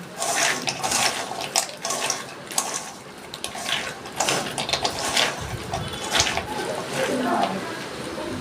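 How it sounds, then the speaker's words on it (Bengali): Water splashed in by hand onto hand-mixed lentil dumplings coated in mustard oil, giving an uneven wet sloshing and squelching with small clicks and knocks across the whole stretch, close and fairly loud. "আমি হাত দিয়ে একটু জল দিয়ে দিচ্ছি"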